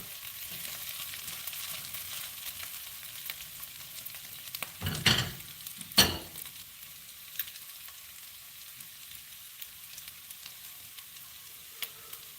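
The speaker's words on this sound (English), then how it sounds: "Oh yes, I love onions." Onions frying in a pan give a faint, steady sizzle, broken by two louder bursts of stirring or clattering midway through.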